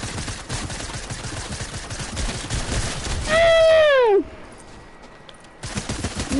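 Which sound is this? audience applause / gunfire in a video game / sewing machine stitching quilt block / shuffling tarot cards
gunfire in a video game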